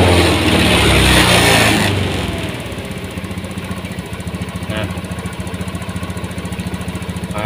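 A Honda Beat motorcycle engine being throttled during a TPS sensor check in a workshop: a loud, rough burst of revving for about two seconds, then settling into a steady, close idle.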